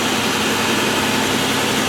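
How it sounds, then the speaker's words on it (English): The 3800 pushrod V6 of a 2006 Buick Lucerne idles with a smooth, steady, even hum, heard close and continuous without any voices. "This is a pushrod engine."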